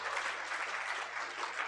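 An audience at a motivational management talk at BBD University applauds, a short burst of dense, even clapping heard fairly softly.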